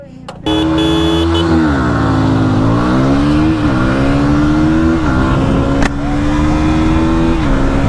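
A KTM Duke 160 and a Yamaha MT-15 motorcycle accelerate side by side in a drag race, a loud, close engine whine that climbs in pitch through several gear shifts, dipping briefly at each change before rising again.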